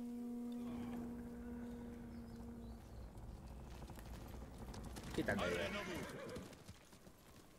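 Horse hooves clip-clopping in the video game Ghost of Tsushima, a muffled trotting rhythm under game music and a brief spoken line, with a louder clattering burst midway.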